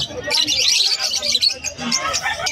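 Budgie-type birds chirp and tweet busily, a dense high twittering that fills the whole moment at an aviary sale, with a murmur of crowd babble underneath.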